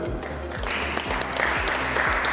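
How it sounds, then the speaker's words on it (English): An audience at a university event applauds a woman being welcomed, a brief steady patter of clapping over a low rhythmic background beat. "Let's welcome her with a round of applause"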